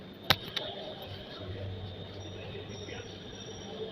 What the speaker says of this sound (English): the Namo Bharat train is arrived